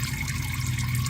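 Engine oil from a Toyota Tundra 5.7 draining in a steady, close pour, a continuous liquid gush with no breaks and no talking.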